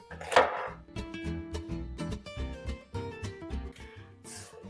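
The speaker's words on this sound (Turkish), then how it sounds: "Hemen kapya biberimizi, köy biberlerimizi aynı şekilde doğruyoruz." A knife chops through capia peppers and village peppers on a board, the cuts coming as a quick run of close, crisp strokes over steady background music.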